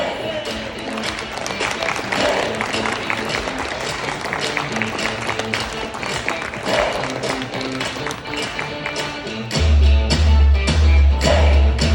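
Crowd at an ASUS 30th anniversary partner award ceremony applauds steadily for the 2019 winners, a dense wash of clapping that runs throughout, joined by a booming low musical thump near the end.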